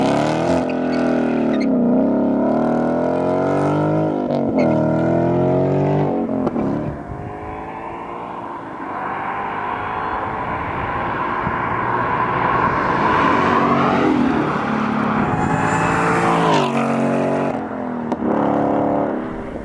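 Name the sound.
Ford Mustang engine and factory exhaust accelerating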